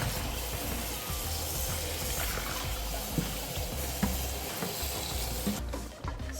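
Cut green bananas are rinsed under running water for matoke, making a steady, dense hiss and splash of tap water with faint clatter from the pieces, continuous and fairly close.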